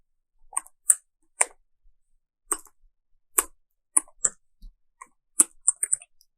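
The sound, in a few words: typing code on a computer keyboard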